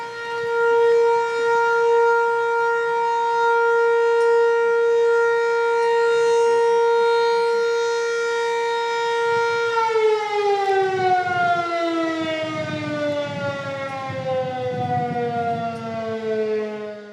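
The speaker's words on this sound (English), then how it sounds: "In fact, it was a regular 4 p.m. call telling kids to go home." A town's regular 4 p.m. public-address siren in a Japanese castle town sounds a long, loud melodic wail, steady for about ten seconds before its pitch slides downward as it fades, with no voices over it.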